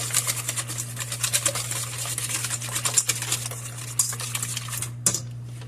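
Blend cheese being stirred into an egg quiche filling in a bowl, a rapid patter of utensil clicks and scrapes against the bowl over a low steady hum, with no talking.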